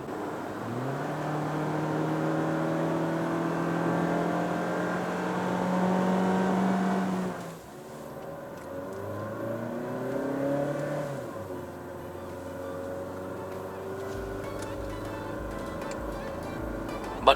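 Cabin view of a 2018 Mazda CX-5 2.0 accelerating, engine note climbing steadily through the gears with rising harmonics, a brief drop at a shift, then pulling again under steady road and wind noise.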